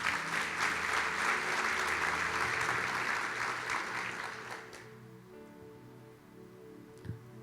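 Congregation applause during a church sermon, dense clapping that holds for several seconds and then fades away, leaving a quiet room with a faint hum and a single late knock.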